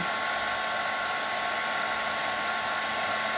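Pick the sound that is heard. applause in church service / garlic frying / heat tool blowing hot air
heat tool blowing hot air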